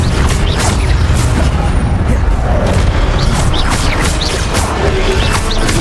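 Spell effects in Hogwarts Legacy, including the Incendio fire spell, sound as loud, dense bursts and crashes layered over a constant roar of combat noise, with sharp impacts recurring every second or so.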